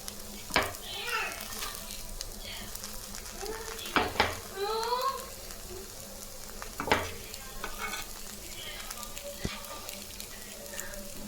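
Drumstick leaf kuzhi paniyaram sizzles softly in a pan while being turned, with a few sharp clicks and scrapes of the flipping tool against the metal and children's voices faintly in the background.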